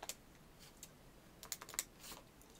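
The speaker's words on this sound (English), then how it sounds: "So I'm typing in the number now." Soft, scattered key taps as numbers are entered on a calculator, a few isolated presses followed by a quicker cluster, close and faint.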